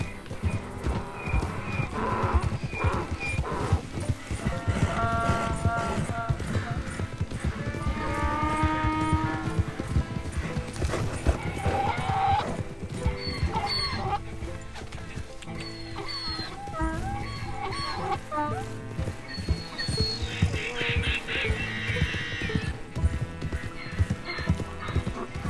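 A horse in the video game Red Dead Redemption 2 gallops with rapid, close clip-clop hoofbeats throughout and whinnies several times, over background game sounds and brief talk.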